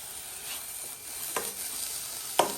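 Garlic, coriander and chili paste roasts in a pan for a pea and onion kachori filling, giving a soft, steady sizzle with a few light scraping stirs, close and fairly quiet.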